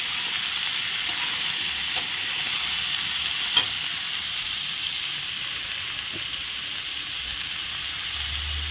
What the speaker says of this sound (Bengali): এখন আমি ভেজে নিচ্ছি ভালো করে।